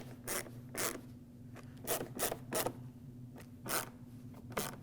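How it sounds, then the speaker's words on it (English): Screws being tightened into the plastic inserts of a 2009-2010 Dodge Ram 1500 headlight assembly, heard as several short, sharp ratcheting bursts spaced irregularly over a low steady hum, close and fairly quiet. "With everything lined up, tighten up all the screws."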